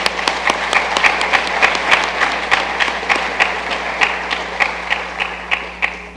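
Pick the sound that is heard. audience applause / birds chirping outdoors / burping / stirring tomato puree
audience applause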